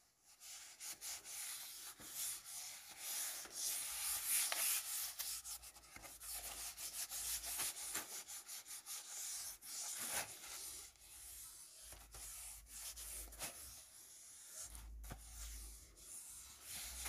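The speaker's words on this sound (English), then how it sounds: "I'm going to rub this really well, especially along the edges" Rubbing over the edges of a white canvas by hand, soft repeated scratchy strokes close up and fairly quiet, with no talking.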